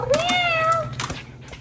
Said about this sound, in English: Y'all hear this cat?